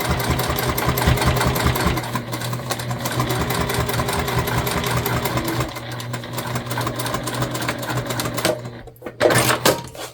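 A sewing machine runs steadily, stitching a seam on a tote bag, its mechanical hum continuous and fairly loud for about eight seconds before slowing and stopping with a few short bursts at the end.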